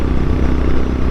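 Honda GB 350 S single-cylinder motorcycle engine labouring in fourth gear on a slight incline, a loud, steady low thrumming pulse close up with wind rush, no talking.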